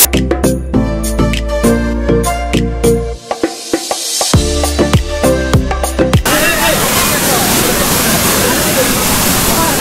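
Ramapuram waterfalls near Tirupati come in after several seconds of music, filling the rest of the clip with a loud, continuous, close roar of rushing, splashing water.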